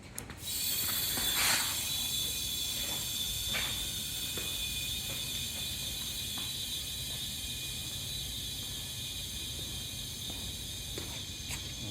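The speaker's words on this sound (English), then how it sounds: "We're gonna go ahead and put some air into it, and the legs are gonna raise the table." Compressed air hisses steadily into the pneumatic isolation legs of a Newport MST 8' x 4' breadboard optical table, a continuous even rush lasting throughout with a few faint mechanical clicks and ticks scattered over it.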